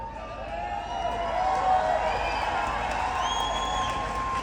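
Large rally crowd roaring and cheering in a sustained wash of voices, with scattered whoops and shouts rising above the steady din throughout.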